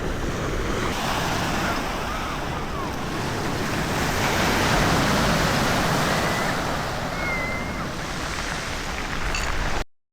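Black Sea waves wash continuously onto the Batumi shore, a broad steady rush of surf with wind buffeting the microphone, no voices heard.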